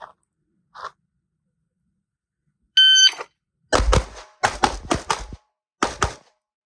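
Pistol shots ring out at targets on a shooting range: a lone electronic beep, then five sharp, loud reports in a fast, uneven string, each with a booming low-end thump.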